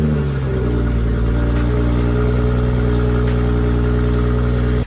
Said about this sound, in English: let's hear a very cold start of my BMW 540i.